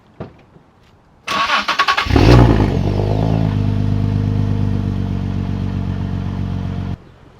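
A Nissan 370Z NISMO cold start: a starter whirs for about a second, then the engine catches with a loud flare of revs and settles into a steady, rumbling high idle that runs until it cuts off near the end.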